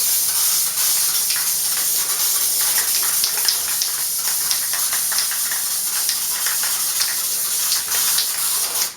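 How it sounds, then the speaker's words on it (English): Spray adhesive from an aerosol can is sprayed onto the back of a poster, a steady close hiss lasting the whole time with slight sputters and no talk. "We're going to spray it on."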